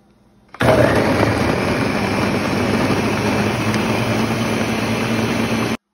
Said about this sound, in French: je vais maintenant mixer tous les ingrédients en faisant des pauses